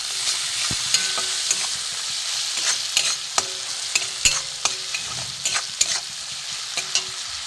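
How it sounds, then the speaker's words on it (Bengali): Spices such as ground coriander mixed with ginger sizzle steadily in a hot pan, broken by repeated sharp scrapes and knocks of a stirring spoon, close and alone. "মশলাটা ভাজা ভাজা হয়ে গেছে।"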